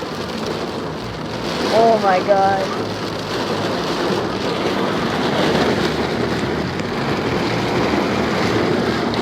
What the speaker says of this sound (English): This is very bad rain.